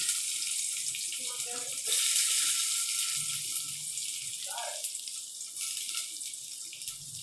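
Tap water runs steadily into a kitchen sink while cooking with fennel seeds and onions, a continuous broadband splashing that persists throughout, with faint voices and clatter beneath it.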